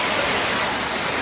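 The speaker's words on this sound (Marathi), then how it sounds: "म्हणून आम्ही आज छोट्याशा वॉटरफॉलला आलो, पण हा पण रिस्कीच आहे वॉटरफॉल" A small waterfall near Mumbai pours in a steady, dense broadband rush. It is close and loud and sounds continuous, with no voices over it.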